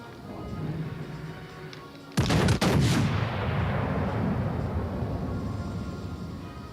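Naval guns of the cruiser Collingwood in World of Warships: Legends fire a loud, close salvo of booming blasts, followed by a long rumbling decay over a low ambient drone.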